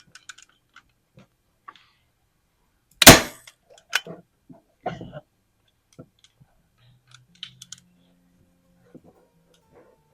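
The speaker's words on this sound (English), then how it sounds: "This staple gun is so powerful." A powerful staple gun fires staples through fabric stretched over a headboard being reupholstered, with one sharp loud bang followed by smaller clicks and handling taps in a quiet room.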